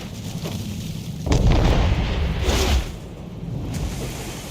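Ship cannons in Assassin's Creed 3 fire a broadside during a naval battle, a single heavy booming blast swelling and rolling for over a second amid ongoing sea and battle ambience.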